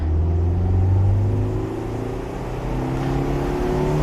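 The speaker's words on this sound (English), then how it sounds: "You can rev the car up." A 115 hp BMW E36 318i Cabriolet, rear-wheel drive, revving its engine under acceleration: a loud, rising growl that eases briefly and then climbs again in pitch, heard without talking.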